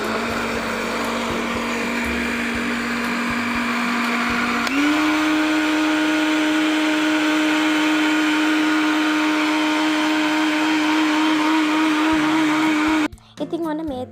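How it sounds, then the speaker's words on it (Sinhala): An electric blender whirs steadily as it blends aloe vera for juice, a loud continuous motor drone that shifts pitch once partway through and cuts off near the end. "ඉතින් ඔන්න දැන් අපි ඉස්සෙල්ලාම දැන් මේක බ්ලෙන්ඩර් කරගන්න ඕනේ"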